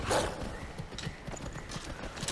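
Hooves clip-clop steadily in a fantasy video game as a horse moves along, with a brief whinny near the start, close and continuous under faint ambience.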